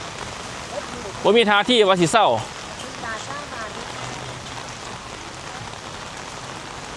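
Steady rain patters on a surface throughout at a morning market in Khemarat, Ubon Ratchathani, Thailand, with a person speaking briefly near the start over the constant wash of falling water.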